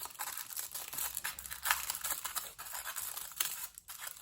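Close crinkling and snipping as scissors cut thin aluminium foil, a steady run of small crackles and rustles with no talk.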